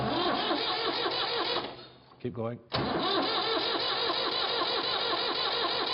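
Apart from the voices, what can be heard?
tractor engine being turned over by starter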